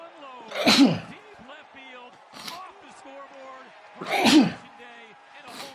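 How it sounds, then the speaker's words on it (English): Two sharp, loud sneezes about three seconds apart, with quieter talking in between. "Sorry for the sneezes."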